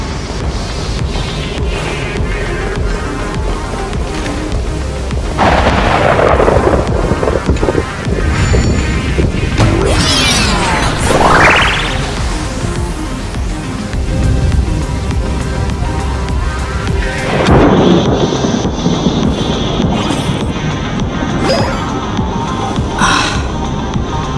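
Lightning strikes and thunder in a video game: sharp, sweeping electric cracks burst out several times among windy, rumbling ambience, loud and close, with no talking.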